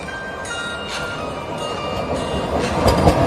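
A Vande Bharat express train passes a station between Vadakkanchery and Ottapalam in Kerala, a rising rumble of wheels with faint tonal hums, growing louder toward the end.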